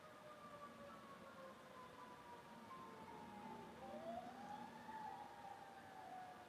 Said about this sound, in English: we got another ambulance or a fire truck